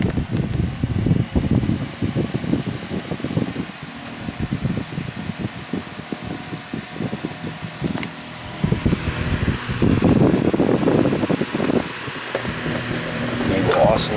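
A 1993 Advantage NR-7 oscillating fan running on high, bought cheap with a slightly uneven blade, sitting on a noisy surface: a steady close whirring hum with rattly fluctuations and broadband rustle throughout.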